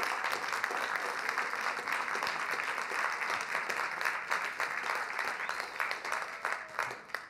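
An audience applauds steadily for several seconds, a dense wash of clapping that stays even throughout and thins slightly toward the end.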